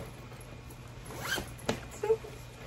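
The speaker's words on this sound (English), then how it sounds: "we got to do a little zipper check" A bag zipper is pulled in a few quick rasping strokes, close by, with a short pause between pulls against quiet background hum.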